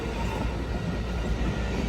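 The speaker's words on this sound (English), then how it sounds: "This is Amtrak Coast Starlight, train number 11, on its way to Los Angeles." Amtrak Coast Starlight passenger train number 11 passing 98th Avenue in Oakland, California, with coaches, a lounge car, a diner and sleepers, a close, loud, steady rumble and rush of rail cars rolling by.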